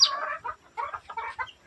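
Chickens cluck in a short run of soft, close, throaty calls, several quick bursts with small pauses between, with no talk.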